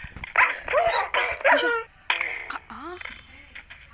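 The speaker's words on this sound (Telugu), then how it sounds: "నాకోసం ఈ కుక్కలు పంపుతున్నాయా గాయస్?" Dogs bark and yip in a Minecraft survival game, a quick cluster of close barks and whimpery yelps in short bursts, with a voice talking over them.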